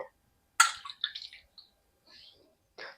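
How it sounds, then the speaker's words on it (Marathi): Carrots rinsed in clean water in a kitchen, brief splashing and dripping bursts separated by short pauses, close and moderately loud. "गाजर हे आपल्याला स्वच्छ पाण्याने धुवून घ्यायचेत"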